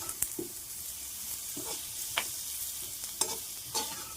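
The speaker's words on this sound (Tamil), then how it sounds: "இந்த அளவுக்கு புளியும் இதிலே போட்டு நல்லா வதக்கி எடுத்துட வேண்டியதுதான்." Pirandai with tamarind sautés in a pan, a steady soft sizzle broken by repeated sharp scrapes and taps of a spatula stirring every half second or so.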